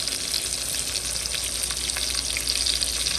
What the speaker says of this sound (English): Now I'm frying the chicken.